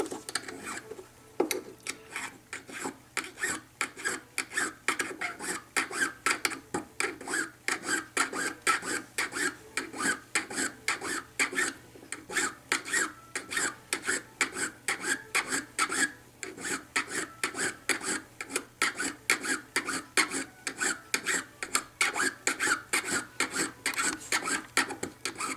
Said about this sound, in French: Changer de lime, prendre une lime un peu plus douce.